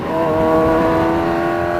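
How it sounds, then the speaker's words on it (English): A Kawasaki Ninja H2 motorcycle engine revs hard and close, giving a loud, continuous tone that holds steady under acceleration for under two seconds, with no talking. "What an amazing motorcycle."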